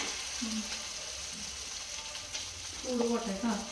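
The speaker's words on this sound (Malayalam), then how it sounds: "ഉരുളൻ കിഴങ്ങ് പൊരിക്കാൻ വേണ്ടിട്ട്" Potatoes sizzle in hot oil with a steady, close crackle that runs throughout, while voices talk briefly over the frying in a home kitchen.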